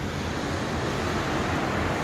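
Steady ocean surf washes in from an oceanfront hotel balcony, a continuous broadband rush of waves with some wind noise, even and fairly loud throughout with no voices.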